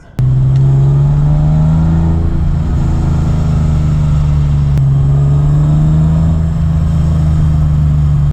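BMW E30 with a single 2.5-inch exhaust and Vibrant resonator and muffler, idling with a deep, steady drone and gentle rev swells, loud and close with no voices.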